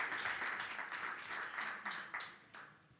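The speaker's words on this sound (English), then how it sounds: "Big round of applause again." An audience at an Africa CDC regional meeting gives a round of applause, dense clapping that swells and gradually fades toward the end.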